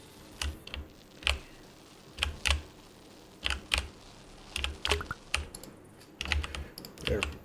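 Arrow keys on a computer keyboard tapped during a House Flipper 2 session, irregular clusters of crisp, close clicks with short pauses between bursts.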